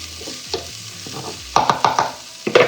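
Onions and garlic sweating in butter in a pan, a soft sizzle broken by quick bursts of stirring and spoon scrapes that grow louder and busier toward the end.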